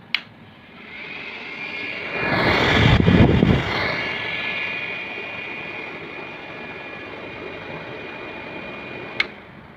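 A room heater's blower fan runs with a steady broadband whoosh and a faint high whine, swelling louder for a moment midway before settling back to a constant hum, with a click at start and end.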